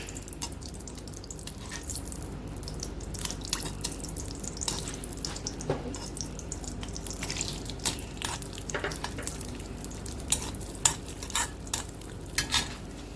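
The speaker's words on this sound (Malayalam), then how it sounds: "ഇതൊന്ന് മെൽറ്റായതിന് ശേഷം നമുക്കിതിലോട്ട് അണ്ടിപ്പരിപ്പ്" Cashews fry in a tablespoon of melted ghee in a pan, a steady faint sizzle running under irregular scraping and stirring clicks from a spoon, with a few sharper taps toward the end.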